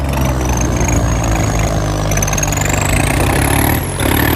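A tractor engine drones loud and close, a steady mechanical rumble with a faint rising whine as it is worked through the third gear.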